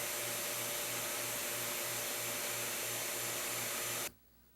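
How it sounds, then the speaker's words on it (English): A vacuum pump evacuating a woodworking vacuum bag for pressing curved shapes runs with a steady, pulsing whine and hiss, then cuts off abruptly near the end, leaving quiet. "seal up the bag, and turn on the pump"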